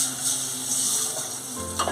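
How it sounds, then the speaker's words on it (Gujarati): Buttermilk tempering sizzles in a pan for a Gujarati vagharelo rotlo, a steady close hiss that fades toward the end and gives way to a brief clatter. "છાશનો વઘાર દઉં છું જો છાશનો વઘાર કરી"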